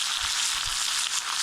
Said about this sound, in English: The sizzle of dinner cooking.